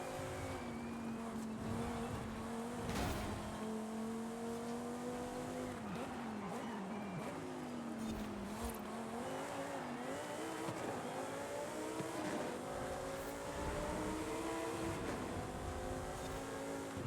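A Lamborghini in Forza Horizon 5 runs a hot lap, its engine screaming continuously through rising and falling revs as it shifts gears, with bursts of tire squeal through the corners.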